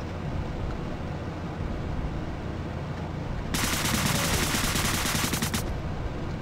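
Gunfire in the top-down shooter game Deadbolt: a dense, harsh burst of rapid shots erupts midway and runs for about two seconds over a steady background drone, loud and close.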